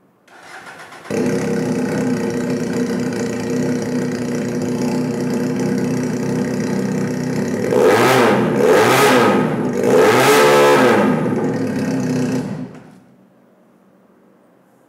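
A dual-cylinder, water-cooled EFI sports bike engine starts up, settles into a steady close idle, then gets two sharp throttle revs before being switched off, leaving near silence.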